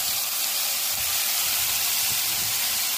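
Prawns hit a hot pan for a Thai sauce, giving a loud, dense, unbroken hiss of sizzling steam that holds steady for the whole stretch, with no talking.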